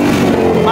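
A 450 hp Ford Mustang's engine idles at minimum revs, heard from outside the car: a brief, loud, deep rumble.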